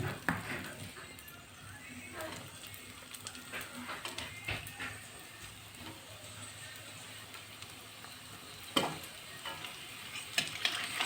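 Food frying in hot oil kept on a low gas flame in a home kitchen, a steady soft sizzle and crackle running throughout with occasional brief louder pops and stirring sounds.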